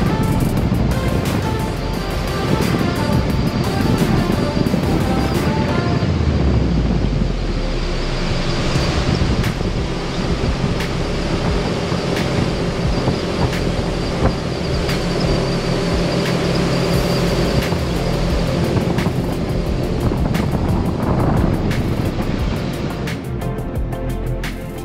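A Sea Ray 380 Sun Sport boat runs at wide open throttle, its engine droning steadily for the whole stretch under heavy wind rush and water noise, loud and close.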